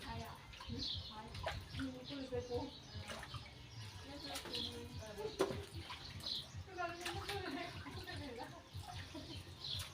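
Tap water runs over a cleaned, split snakehead fish during washing outdoors. It makes a quiet, continuous splashing beneath nearby voices, with faint bird chirps in the background.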